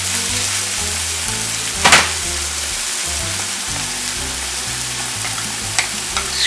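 Onion frying in a pan for sloppy joes, added to browning sirloin: a loud, continuous sizzle with one brief scraping burst from stirring and a few light clicks, no voices.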